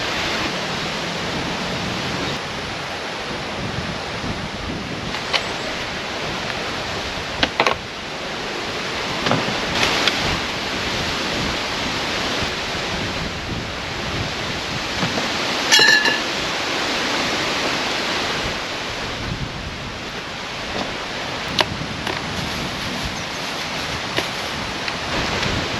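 Heavy rain roars steadily with strong wind gusts at a motorcycle campsite near Mayon, Albay, a dense, continuous wash of noise with occasional sharp taps and buffets against the gear.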